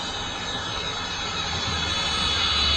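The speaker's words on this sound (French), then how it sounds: "Voilà le drone monte, hein, il reste pas où il est." A Syma X5 toy quadcopter drone climbs with no altitude hold, giving a steady, loud, high-pitched motor and propeller whine that rises slightly in volume as it flies; no one speaks.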